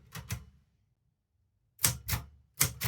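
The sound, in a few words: typing with short, sharp keystrokes on a typewriter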